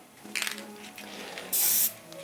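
Short hissing bursts of an aerosol spray can painting a car body, one brief spurt followed by a louder, sharper blast near the end.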